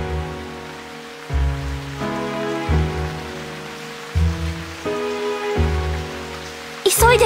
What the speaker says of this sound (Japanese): 何この風？ それに雨も降ってきた